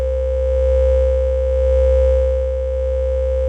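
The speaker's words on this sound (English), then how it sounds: "we go into distortion, we sort of drive the analog filters" A steady, loud synthesizer tone overdriving its analog filters into distortion, gritty and buzzing, holding one pitch with slight slow swells in volume.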